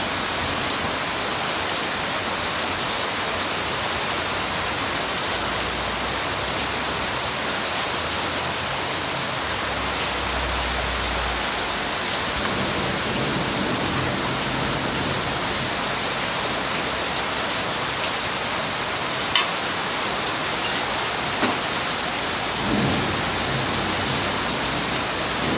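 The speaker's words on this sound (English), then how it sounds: "I come back out here and now it's raining" Heavy rain pours steadily during a strong thunderstorm in central Oklahoma, a dense, even hiss heard from under a patio, with only a few faint knocks and no distinct thunder.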